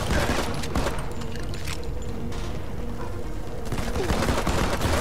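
Rapid gunfire bursts crackle through a dense firefight at a construction site in the shooter game Modern Combat 5: Blackout, continuous and loud over busy background noise.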